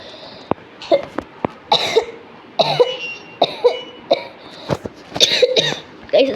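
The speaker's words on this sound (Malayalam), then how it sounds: "ഒറിജിനൽ ചുമ" Repeated real coughs from a person nearby, sharp bursts coming in irregular clusters across several seconds, some with a throaty rasp, with no talk between them.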